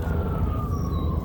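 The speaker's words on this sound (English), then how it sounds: "With the sirens going off. The ambulance." An ambulance siren wails steadily through the whole stretch, a single sustained tone that glides slowly downward, loud and continuous over a dense low rumble, with no speech.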